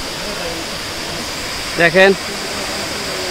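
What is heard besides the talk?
Double Falls waterfall, Ruma, Bandarban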